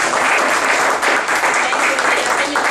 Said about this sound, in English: Rita, let's give her a round of applause.